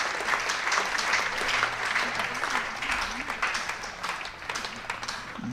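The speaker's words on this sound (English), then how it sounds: "You can hear the applause from the home supporters" Home supporters at a Northamptonshire v Lancashire County Championship cricket match applaud a boundary four, a steady, moderately distant patter of clapping from a crowd that holds throughout before thinning slightly toward the end.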